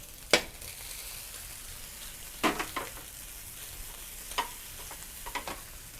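Glass noodles tossed into a hot pan and stir-fried, with a few sharp clatters of the spatula against the pan over a low, steady sizzle.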